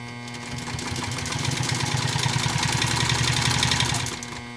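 A 1956 Singer 99K sewing machine stitches at a steady fast pace, its motor hum and rapid mechanical needle chatter running loud and close for about four seconds before stopping abruptly.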